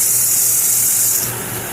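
Short burst of water sprayed onto a running car's serpentine belt, a loud close hiss that tapers off near the end.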